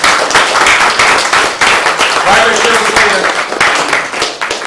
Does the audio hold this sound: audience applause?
yes